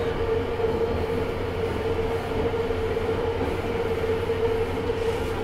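The inside of a driverless Bengaluru Yellow Line metro train fills with a steady rumble and a sustained tonal whine as it runs between stations, continuous and moderately loud, with no talk.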